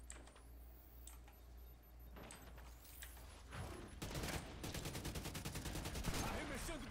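Gunfire in The Division 2 crackles in a firefight, starting as scattered distant shots and building into rapid, dense automatic bursts that grow louder toward the end, with a player talking over the shooting.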